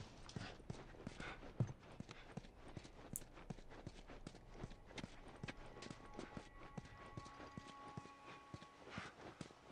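Hooves clop in a steady, brisk rhythm as a horse is ridden in The Last of Us, the impacts close but quiet over a faint outdoor game ambience.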